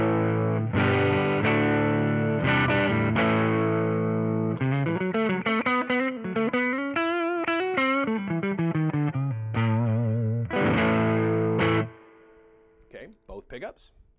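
A Collings 290 electric guitar on its neck pickup plays chords and a melodic run through a Carr Sportsman 112 combo amp miked with an SM57, slightly gritty when picked hard, loud and sustained before ringing off into quieter picking.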